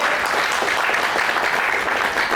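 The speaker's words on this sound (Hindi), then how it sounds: "अगर आप सच में चैंपियन हैं तो अपने लिए एक जोरदार तालियां बजाएं" An audience at a motivational business speech claps loudly in a dense, continuous burst of applause, steady from start to finish with no voices over it.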